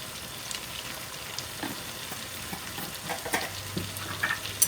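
Spinach and black pepper frying in a pan while being stirred, giving a soft, continuous sizzle with scattered scraping and clicking stir sounds, fairly quiet and with no voices.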